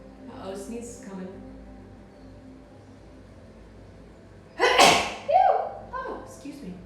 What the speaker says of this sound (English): sneeze is coming